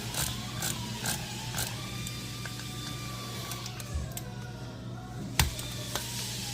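Ratchet turning to tighten throttle body bolts on a Gen III Hemi engine, with close, quiet clicking of the pawl in short bursts and a couple of sharper metallic knocks near the end.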